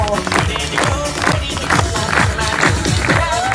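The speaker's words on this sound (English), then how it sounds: "Clap your hands and stop your feet." A crowd at the Grouse Mountain Lumberjack Show in Vancouver, Canada claps and stomps in a loud, steady rhythmic beat, with voices and cheering mixed in.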